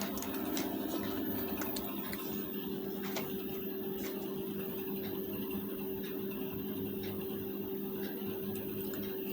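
Steady sewing machine whir as a blouse seam is stitched, a constant motor hum with faint ticking stitches throughout, moderately close.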